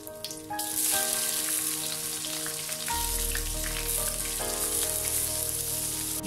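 Crushed shallots frying in oil in a pan, a steady close sizzle that swells partway through, with background music playing throughout.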